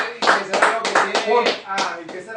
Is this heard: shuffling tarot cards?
no